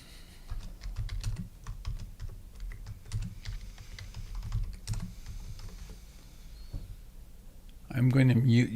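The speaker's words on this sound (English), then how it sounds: "typing comes through pretty loud" Clicky computer keyboard typing picked up over an open microphone during an online meditation session, rapid irregular keystrokes mixed with low rumble, ending in a louder burst of other noise.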